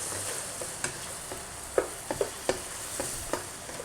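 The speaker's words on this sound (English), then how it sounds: "Now I'm going to add some diced onion." Half a red onion, diced, sizzles in a pan after shrimp for pad thai, holding a moderate, steady frying hiss. A series of light spatula scrapes and taps come through at uneven intervals.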